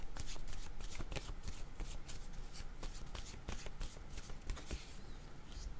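Oracle cards being shuffled by hand during a card reading, giving a steady, close run of riffling and flicking paper sounds throughout with no talking.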